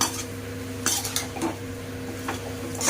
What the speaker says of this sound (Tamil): உப்பு சேர்த்துட்டு இதை வதக்கிக்கலாம்.